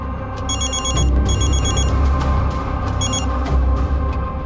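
A telephone bell rings loudly in repeated bursts over a steady background hum, with no voices.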